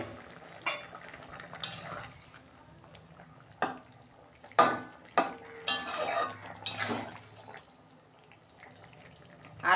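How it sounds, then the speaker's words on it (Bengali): A cooking pot's lid is lifted off vegetables, including potato and drumstick stems, simmering over a low gas flame. Several sharp metallic clanks and scrapes ring out over a soft background bubble. "এখন বন্ধুরা আমি ঢাকনা খুলছি।"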